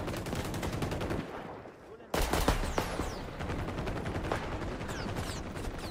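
Rapid gunfire from a first-person shooter match in XDefiant, a dense stream of shots that drops away briefly and then resumes loud and close, with sharp bursts continuing steadily to the end.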